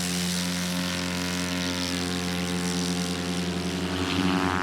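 A STOL propeller aircraft at a competition roars steadily through a takeoff, its loud, sustained engine drone holding strong harmonic tones and swelling slightly toward the end.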